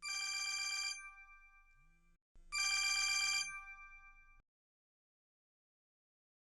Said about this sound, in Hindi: अम्मी जान का फोन है